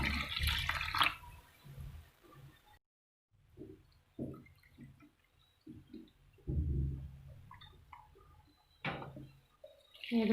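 Poppy seeds are rinsed in water in a bowl. Quiet, scattered splashes and trickles come in short bursts, separated by near-silent pauses.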